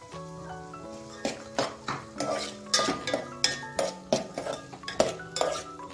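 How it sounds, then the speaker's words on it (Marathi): Chickpeas tipped into a spice paste and roasted in oil in a pan, with a metal spoon clinking and scraping against the pan in an irregular rhythm over a soft sizzle and a steady tonal hum in the background, up close. "आता ह्याच्यामध्ये मी हरभरे टाकून घेते।"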